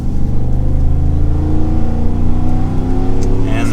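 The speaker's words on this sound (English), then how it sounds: "I love the exhaust that's on this truck." A 2021 Ford F-150 RMT Overland with its V8 pulls up to speed on a main road, the exhaust note building in a steady rising drone with harmonics climbing as it accelerates, loud and close throughout.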